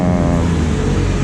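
A Kawasaki Z250 motorcycle with a Leovince Cobra exhaust idles up close, giving a loud, steady, low rumbling burble with no other sound.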